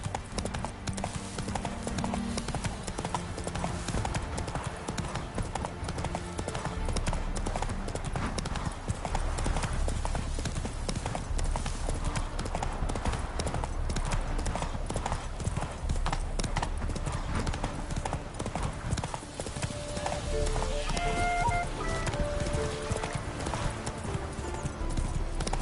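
Horse hooves clip-clopping steadily in The Witcher 3 video game, a continuous close rhythmic trot over music and ambient sound, with a voice speaking briefly.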